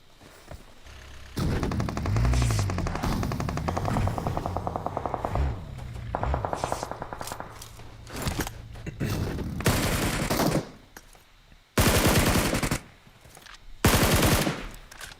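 Bursts of automatic gunfire and rapid shots from a PUBG Mobile championship qualifier match, loud repeated volleys with brief pauses, ending in several sharp, dense fusillades.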